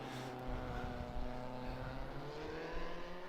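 Engines of 1958 Formula 1 cars, among them a Vanwall, roar in Automobilista 1 at Silverstone, a continuous droning snarl with rising and falling harmonic tones from several cars, steady and loud throughout.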